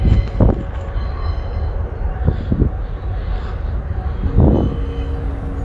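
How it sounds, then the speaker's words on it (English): Loud train passing near woods, a steady heavy rumble with rail clatter and a few sharper bursts, close and continuous. "Loud train."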